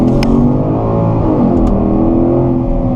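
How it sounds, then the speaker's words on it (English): A 2013 Porsche Cayenne GTS with a naturally aspirated V8 revs loudly and close, its engine note swelling and settling in a continuous rich growl with no talking. "I'll let you listen to this engine again."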